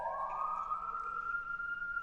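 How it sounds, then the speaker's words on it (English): A police siren in a video game wails, rising in pitch and holding a steady electronic tone, moderately loud and alone with no voices. "You can do like sirens if you want to"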